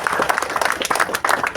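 An audience claps at a ceremony marking the start of renovation work at a Hindu Koli cemetery, producing a brief, dense burst of steady applause that is fairly loud and close.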